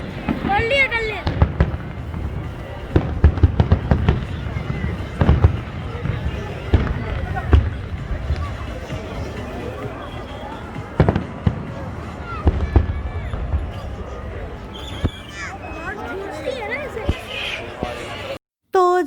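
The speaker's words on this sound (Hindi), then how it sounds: "तो जनाब बहुत प्यारा आतिशबाज़ी का ये मंज़र था।" A fireworks display at Global Village in Dubai sends out repeated booms and crackling pops over a crowd's hubbub, with people talking nearby throughout.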